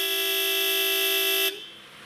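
A 1991 Mercedes S-Class horn on its alternate town-and-country note gives a single sustained, brassy, loud honk of about a second and a half, heard up close and alone.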